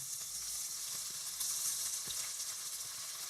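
Onion, tomato, ginger-garlic paste and whole spices such as cinnamon, cloves, cardamom, star anise and bay leaf sauté in oil for mutton biryani, giving a steady soft sizzle with faint stirring scrapes, fairly quiet and close.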